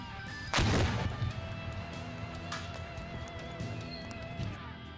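A tank fires a 125mm Telnik fragmentation shell, one sharp, loud blast that rolls into a long rumbling echo, followed by a lingering engine hum.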